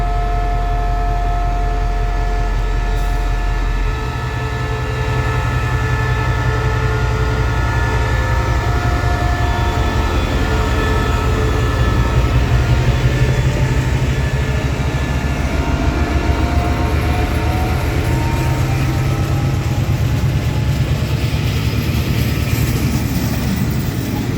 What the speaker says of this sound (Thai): เดี๋ยวไปฟังเสียงรถจักรเล่นเครื่องกันครับ